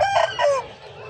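A rooster crows nearby, a short hoarse call that trails off, with a low background hum.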